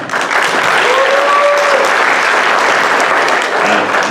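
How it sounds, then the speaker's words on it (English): Crowd applause at the Miss VietFest 2018 pageant finale, loud, dense clapping from a large audience sustained throughout, with a faint tonal whistle or feedback briefly riding over it. "please give a round of applause to them."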